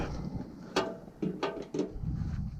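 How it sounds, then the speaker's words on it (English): Screws are driven into a Rheem furnace blower housing during a repair, producing a few short, sharp ratcheting clicks and mechanical bursts close to the mic over a low background rumble. "Just gonna button some screws in and"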